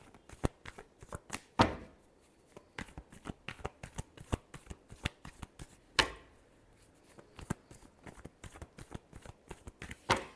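Tarot cards being shuffled by hand during a reading, a rapid series of crisp riffling snaps and flutters with brief pauses around 1.5 and 6 seconds, close and alone without talk.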